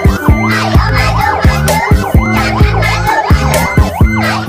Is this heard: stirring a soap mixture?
no